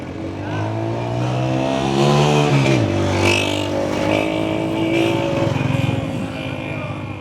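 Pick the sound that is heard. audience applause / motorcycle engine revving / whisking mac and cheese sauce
motorcycle engine revving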